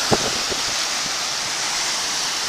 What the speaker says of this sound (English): I've just got to wait for these waves to go out